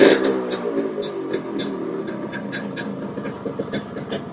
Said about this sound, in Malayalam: ഒരു നല്ല ഹെൽത്തി എൻജിൻ ഉള്ള ഒരു RX 100 സൗണ്ട് സത്യം പറഞ്ഞാൽ ഇങ്ങനെയാണ് ഇരിക്കേണ്ടത്.